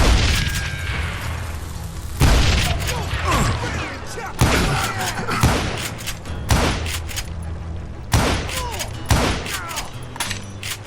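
Heavy booming blasts of thrown dynamite in the Western shooter Call of Juarez: Gunslinger, several loud bursts at irregular intervals over continuous gunfire and battle noise, with voices calling out between them.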